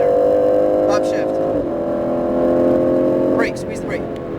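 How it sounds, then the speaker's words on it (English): An Aston Martin Vantage on a racetrack at full throttle, its engine droning loud and close with a rising pitch, then a brief dip at a gear change before pulling hard again, as an instructor talks over it. "Keep opening, go full throttle."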